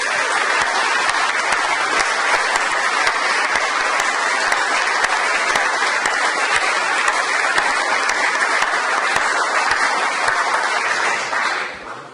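Sustained applause from an audience at an awards ceremony for furniture and wood technology graduates, steady dense clapping for about twelve seconds before tapering off at the end.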